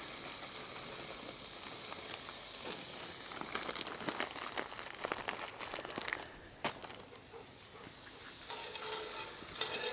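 Peas and tomatoes sizzle in a pan over a campfire while being stirred for paella, a steady close crackle with scraping stirs and bursts of spitting juice.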